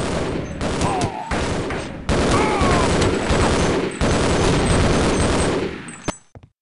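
Rapid bursts of gunfire from Half-Life zombie combat, dense and loud in several long volleys with brief gaps, trailing off into a few last shots, with faint player voices underneath.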